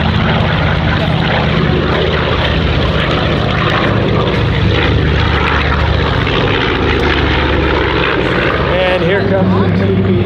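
A TBM Avenger WWII propeller warplane roars past at close range at an airshow, its heavy engine drone loud and steady throughout.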